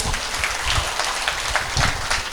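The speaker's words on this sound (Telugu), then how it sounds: "ఒక్క నిమిషం గట్టిగా క్లాప్స్ కొట్టుకుందాం." An audience at a 108 Pyramid anniversary event claps together in a sustained burst of dense, even applause, moderately loud from a crowd in a hall, with no voices over it.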